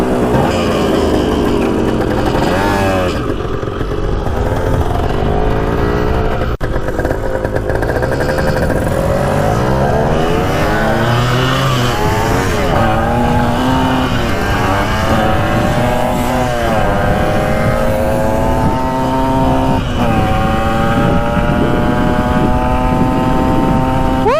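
A Yamaha MX 175 dirt bike races alongside a newer dirt bike, with loud, continuous two-stroke engine noise that revs up and down through the gears and keeps rising in pitch as the bikes run at speed.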